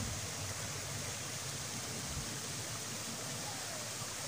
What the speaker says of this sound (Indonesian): langsung saja kita explore pesona air terjun pasur yang indah ini